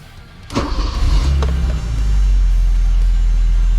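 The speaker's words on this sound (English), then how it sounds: "Let's see if starting the car makes any difference." An 1980s BMW's engine cranks and catches, then settles into a loud, steady low rumble close by, with a brief whirring click during the start.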